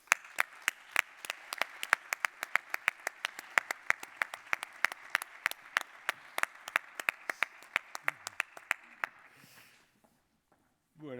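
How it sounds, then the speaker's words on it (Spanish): Audience applause at a disability-awareness event welcoming a guest, a sparse run of distinct individual claps that thins out and stops, with a voice starting at the very end. "vamos a recibir con un aplauso"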